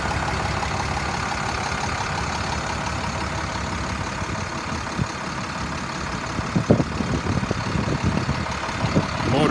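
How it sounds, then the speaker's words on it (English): The engine of a 2007 International 4400 dump truck idles smoothly and steadily at moderate distance, a low continuous drone with a few faint knocks and clunks near the end. "Motor's idling smooth."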